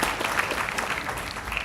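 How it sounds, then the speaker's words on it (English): Crowd applause at the grand opening of a rebuilt lake bridge, a steady outdoor wash of clapping from an audience, moderately loud and continuous for a short stretch without speech. "Give them a round of applause."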